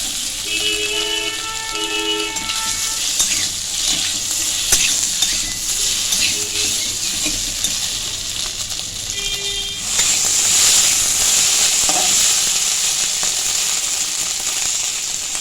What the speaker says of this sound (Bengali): তেলটা গরম হয়ে গেছে এরপরে পনিরগুলো দিয়ে দিচ্ছি